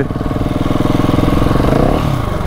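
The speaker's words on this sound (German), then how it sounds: "Ich bin jetzt einfach Offroad mit meiner KTM unterwegs." KTM SMC R 690 supermoto motorcycle revving on grass while riding off-road, a loud, close single-cylinder engine throbbing steadily and rising in pitch as the throttle opens, with no talking.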